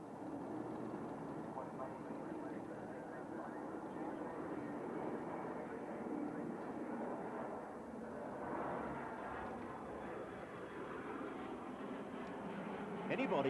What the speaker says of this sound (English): Anybody familiar with early jets will recognise this aircraft, the de Havilland Vampire